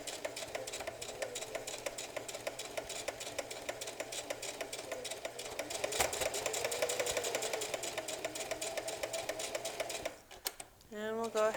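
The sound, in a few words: sewing machine stitching infinity scarf fabric, with reverse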